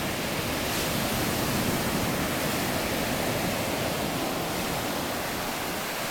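Surf at Virginia Beach makes a steady, broad wash of noise, unbroken and fairly soft, with no voices.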